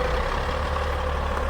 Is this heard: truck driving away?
yes